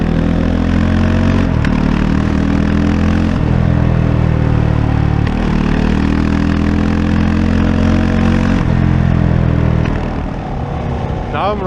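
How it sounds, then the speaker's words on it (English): A Kove 450 Rally Euro 5 single-cylinder motorcycle engine runs steadily while riding, a loud, grunty drone with harmonic layers and brief throttle changes, heard close and continuous throughout. "I actually noticed that the bike is quite grunty"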